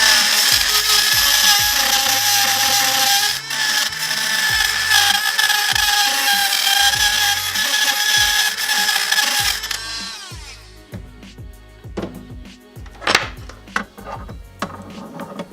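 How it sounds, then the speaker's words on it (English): A Dremel rotary tool grinding a car part for demon eye lights: a loud, high, steady whine with bumpy chattering as it bites, cutting off near ten seconds, followed by faint handling clicks. "You literally only have to Dremel it a tiny bit."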